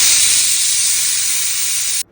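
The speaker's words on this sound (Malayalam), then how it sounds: "കുക്കർ അടച്ചു വെച്ചിട്ട് ഒരു മൂന്ന് വിസിൽ അടിക്കാം" Loud, steady hiss of steam forcing its way out of a pressure cooker whistle, cooking mint rice, then it cuts off abruptly.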